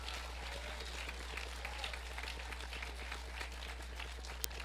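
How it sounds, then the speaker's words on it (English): A graduation ceremony audience applauds steadily, with a dense, even wash of clapping from a large crowd heard at a distance, faint and continuous. "give yourselves a round of applause, and the kids, give them a round of applause"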